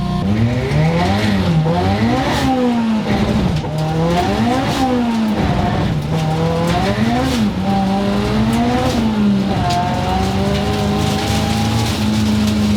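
A 515 hp rear-wheel-drive Honda Civic on 205 tires roars loudly with its engine revving up and down, wavering in pitch as the rear wheels spin and squeal continuously, heard close and without talk.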